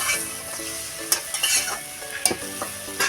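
Ash gourd curry fries and sizzles in a pan as it is stirred without added water, with steady frying hiss and sharper scraping stir strokes scattered throughout, close up and without talk.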